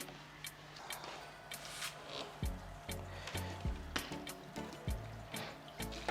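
An aquarium siphon drains fish tank water through a long hose toward a drain, making a continuous gurgling, trickling flow broken by repeated sharp knocks and sloshing bursts, moderately quiet and close.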